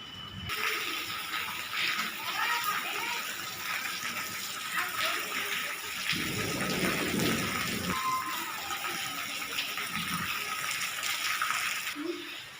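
Heavy rain with lightning pours outside while floodwater fills the house, giving a constant rushing, splashing wash, with a louder gush midway and people talking faintly over it.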